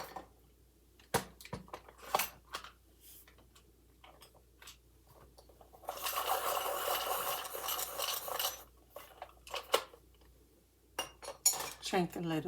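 A colorless blender pencil being sharpened, with scattered clicks and small knocks followed by a sustained scraping grind of about three seconds, then more short taps and scrapes, close and fairly quiet.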